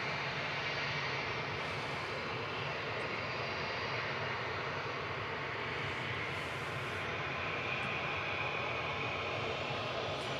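An aircraft crossing runway 23 right at Manchester Airport makes a faint, distant, continuous engine roar that stays level throughout.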